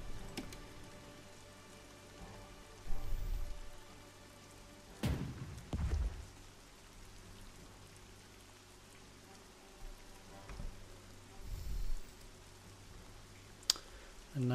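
Rain falling on a night battlefield in the strategy game Strategic Mind: Spirit of Liberty, a soft continuous patter beneath scattered low thumps and interface clicks, with no voices.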